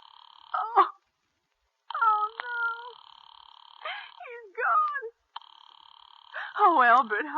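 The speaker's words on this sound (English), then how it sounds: "Operator, try that Murray Hill 40098 number for me just once more, please. You may dial that number direct." An old telephone call to the operator for a Murray Hill number, heard as steady dial tones and ringing that break off and start again, mixed with a distressed moaning voice in a radio drama.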